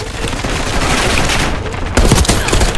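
Gunfire in Call of Duty Black Ops 6 Search and Destroy, a dense run of rapid shots with a heavier burst of blasts near the end, loud throughout.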